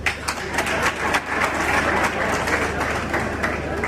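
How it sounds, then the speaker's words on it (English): People clapping at a family ceremony in Kanungu District, Uganda, a steady patter of many hands with distinct sharper claps over a low hum, fairly loud and continuous. "Why are you not clapping for others?"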